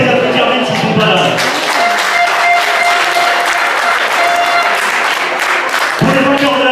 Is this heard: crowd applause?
yes